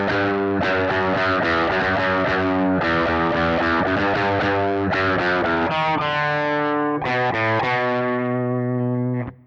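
Slow electric guitar playing a theme, heavily processed with distortion and effects, sustained notes and chords ringing steadily with no talking.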